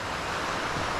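Creek water flowing steadily through a snowy winter landscape, a continuous broadband rush, close and even, with no voices.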